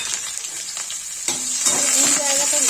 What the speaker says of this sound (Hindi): देखिए गाइस इसमें जीरा डाल दिया प्याज।